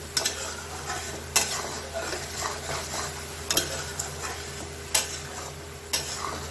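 Tomatoes simmering in butter gravy for paneer butter masala, a gentle continuous sizzle with a spoon clinking and scraping the pan every second or so.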